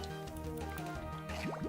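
A watery bubbling and splashing effect for the move Soak in the Pokemon Black video game, playing over chiptune battle music, with rising squishy liquid sweeps near the end.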